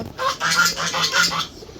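Three loud honking calls from a sick goose in quick succession, close by, with no talking.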